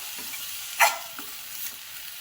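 Sprouted moth beans (matki) with masala are sautéed in oil, giving a quiet background sizzle broken by one clear scraping stir and a couple of fainter stirring touches.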